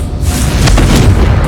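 Loud Confringo blasting spell in Hogwarts Legacy, a deep booming explosion rumbling for about a second and a half, with brighter crackling bursts layered over a sustained low roar.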